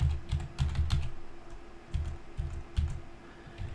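Bursts of fast keystrokes tap out on a computer keyboard while a name is entered, close and crisp in short clustered runs separated by brief pauses, with no voices.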